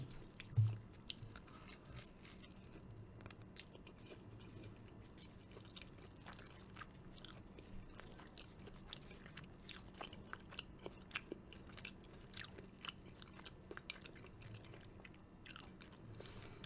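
Close, quiet chewing and biting of spicy Jamaican beef patties, with soft crunches and moist mouth sounds repeating irregularly over steady low background hum, no talking.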